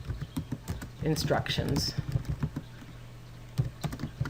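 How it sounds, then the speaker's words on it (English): Someone types on a computer keyboard, producing quiet, irregular clicking keystrokes in short bursts, and a voice speaks briefly partway through. "here is where you type your assignment"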